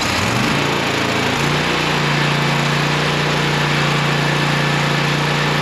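A Toro TimeCutter riding mower's engine, choked in cold weather, cranks briefly and then catches, settling into a loud steady running drone close by.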